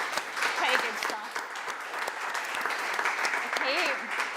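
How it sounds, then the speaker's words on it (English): Audience applause at an out-of-home advertising awards show, continuous moderate clapping with a few voices and cheers mixed in throughout. "They do deserve a round of applause."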